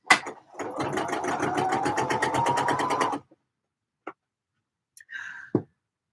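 Sewing machine stitching darts in dress fabric, a steady rapid mechanical chatter running about three seconds, then stopping, followed by a few soft clicks and handling noises.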